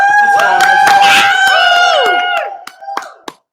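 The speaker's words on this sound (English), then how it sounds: "can we get a cheers for Invincible and a quick cheer for Invincible?" Brief burst of crowd cheering and whoops at an award ceremony, loud and close for about two seconds before trailing off into a few scattered shouts.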